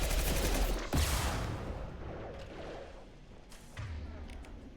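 Enemy gunfire in the video game Mass Effect 2, a loud rattling fusillade with a heavy thump near the start that gradually fades into quieter combat noise.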